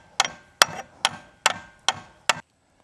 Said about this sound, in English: I feel like it ought to be able to take some taps.